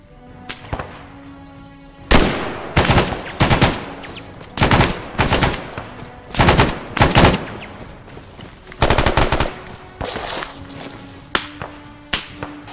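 Bursts of automatic gunfire and sharp single shots crack out in repeated volleys during a military video game firefight, loud and close, separated by brief quieter gaps with faint tonal background sounds.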